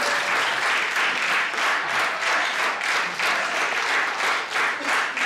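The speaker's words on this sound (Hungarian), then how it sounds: "Nagy tapsok, csak ez az oldal tapsol" An audience applauds throughout, steady and dense, with a constant texture of many hands clapping at once at close range and no talk over it.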